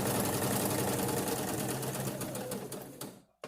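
Sewing machine stitching along fabric toward a corner, a steady close, loud mechanical whir that runs continuously, then stops abruptly near the end.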